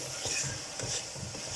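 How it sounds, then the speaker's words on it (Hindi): Peas being stirred and fried in masala in a pot while making vegetable biryani, a steady bright sizzle with soft scraping stirs repeating every half second or so. "मटर को भी अच्छे तरीके से मिक्स करके इन्हें भी भून लेंगे"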